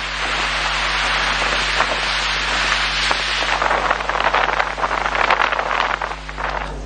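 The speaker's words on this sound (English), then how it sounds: "the heavy showers were accompanied by strong winds" Heavy rain showers with strong winds pour down steadily and loudly, a dense continuous hiss of drops on surfaces over a low constant hum, swelling slightly toward the end.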